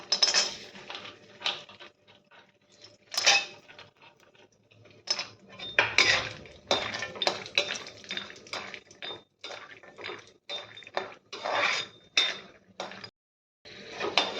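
Almonds stirred in a pan while roasting for poha barfi, giving scattered metallic clinks and scrapes of a spoon against the pan, near and fairly quiet, with brief pauses between bursts.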